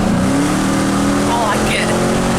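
A Dodge Durango RT with a chopped-off exhaust roars loudly under hard acceleration, its engine note climbing steadily for a couple of seconds.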